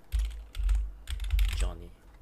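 Soft keystrokes on a computer keyboard come in short bursts and pauses while JSON is entered into Postman, fairly close and quiet with no talk over them.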